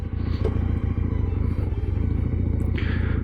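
A Regal Raptor Pilder 250 twin-cylinder motorcycle engine fires up and settles into a steady, loud, close-up idle with a pulsing low rumble and light mechanical clatter.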